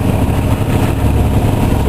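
A Yanmar diesel boat engine runs steadily at about 2,200 RPM while cruising in Queen Charlotte Sound, a loud, continuous low throbbing drone with no pauses or voices.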